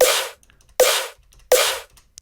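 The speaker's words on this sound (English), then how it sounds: "this punchy snare appears here" Three punchy, noisy beatboxed snare hits at an even pace, each a sharp burst with a quick decay and silence between.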